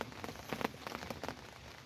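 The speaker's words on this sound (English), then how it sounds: "It's been raining on and off" Steady rain falls on a Wednesday morning, a dense even patter of drops striking surfaces nearby, with scattered louder drips standing out from the continuous wash and no voices.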